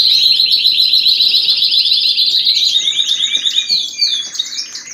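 Pet canaries sing loudly indoors, bright rapid trills and chirps running continuously and filling the room, with a few softer knocks beneath and no talk.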